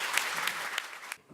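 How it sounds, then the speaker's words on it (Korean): An audience at a National Assembly fiscal policy forum gives a brief, fairly quiet round of applause that quickly fades away. "다시 한번 박수 부탁드리겠습니다"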